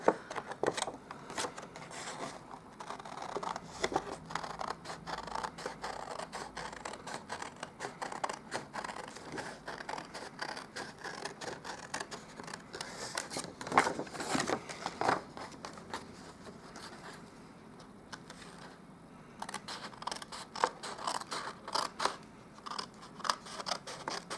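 Scissors snip steadily around straight-edged lines of paper, a dense run of close, crisp cuts and crunches with a short lull near the end before cutting resumes.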